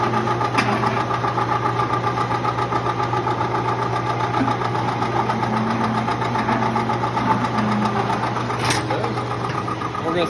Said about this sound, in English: We'll turn on this rolling machine.